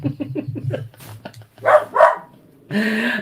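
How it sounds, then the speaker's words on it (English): A dog barks in a quick burst of several sharp yaps, then a couple of louder barks and a longer whining bark, close by. "No barking."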